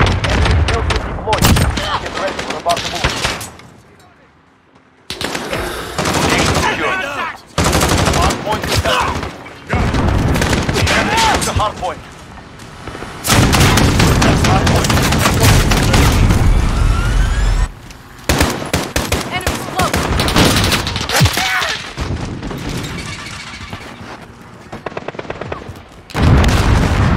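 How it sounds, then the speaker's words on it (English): Loud bursts of rapid automatic gunfire in a Call of Duty match, dense volleys broken by short pauses, with voices talking at times between and over the shots. "Stop shooting at me."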